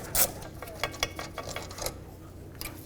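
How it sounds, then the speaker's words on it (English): Ratchet wrench loosening the rear brake caliper bolts on a 2005-2010 Pontiac G6, heard as a quiet run of clicking ratchet strokes and metal handling at close range, no talking. "I'm just going to use a ratchet wrench and get those two completely out of here."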